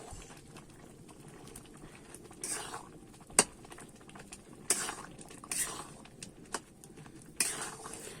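Tomato sauce cooks in a pot while a spoon stirs it, giving a few faint, scattered scraping and clinking bursts over a quiet background with no talk.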